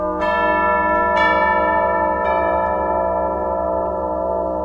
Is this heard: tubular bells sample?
yes